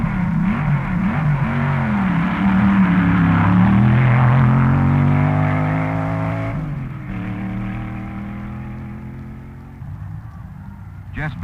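A Dragmaster Jr. dragster driven by Dick Bouchette races at a 1961 NHRA drag race, its engine droning loudly and shifting pitch, with a narrator talking over it throughout.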